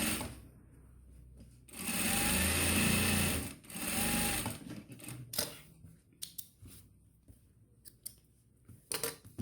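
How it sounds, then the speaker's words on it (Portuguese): A sewing machine stitches a seam on a double fabric wallet, with two sustained runs of loud, close whirring, then quieter clicks and handling of the fabric. "E passa uma costura para segurar."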